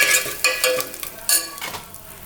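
Curry leaves and asafoetida spluttering in hot oil for chow chow sambar, with a spoon stirring close by in sharp, irregular crackling bursts and scrapes that fade toward the end.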